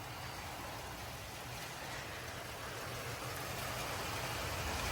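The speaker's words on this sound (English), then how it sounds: "Rain's going sideways." Heavy rain driven by strong storm winds in Frisco, Texas, a dense, constant roar of rain and gusting air that slowly builds in loudness, with no voices.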